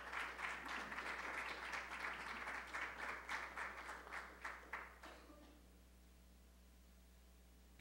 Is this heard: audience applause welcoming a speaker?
yes